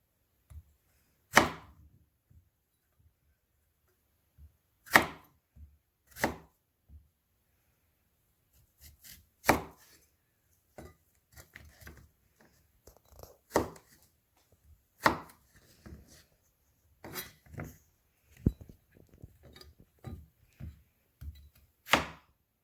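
A sharp knife chops squash on a cutting board for a vegan Panang red curry, giving about a dozen crisp, irregularly spaced thunks with quiet pauses between, close and dry, with no voices.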